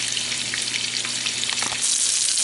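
Filet steaks frying and browning in a hot pan on a stovetop, a steady dense sizzle with small crackles and pops, continuous and close.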